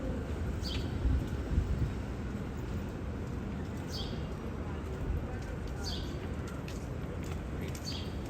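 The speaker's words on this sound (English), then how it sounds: "You can hear the birds chirping." Faint birds chirp in short, scattered calls over a steady outdoor background of rumble and murmuring voices, on the High Line in New York City's Meatpacking District amid foot traffic.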